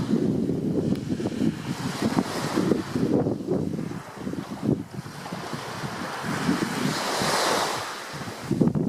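Sea waves wash onto a beach at Anapa in rolling surges, with steady wind buffeting the microphone and a low roar that swells and recedes across the shore.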